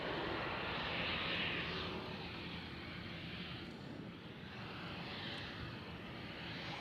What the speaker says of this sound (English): There's one just landed, so he should line up now.